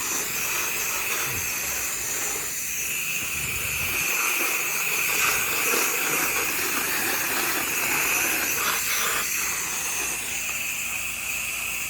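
A water hose sprays steadily against house windows during a house wash, a constant loud hiss of spray with a droning pressure washer underneath, no talking.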